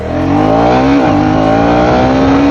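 KTM Duke 250 Gen3 motorcycle engine revving steadily during a ride, a loud continuous tone that rises, dips briefly near the one-second mark, then climbs and holds, with no talking.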